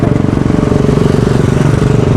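A worn, smoking vehicle engine throbs loudly and close by with a rapid rhythmic diesel-like pulse, sustained briefly as it passes.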